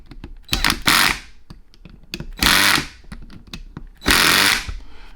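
A Matco MT2120 3/8-inch air impact wrench, just overhauled, runs in three loud rattling hammer bursts about a second each, separated by quieter clicks and handling clatter.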